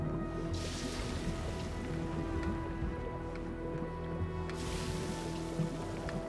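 Dangerous churning water on a stormy night in the video game Unravel, a constant rushing hiss of waves and rain-like spatter that swells briefly at the start and near the end, with soft sustained tones underneath.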